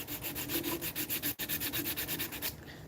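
A carved wooden cane rubbed with 100-grit sandpaper in steady, rapid back-and-forth strokes, close and loud, with one brief pause midway and a softer tail at the end.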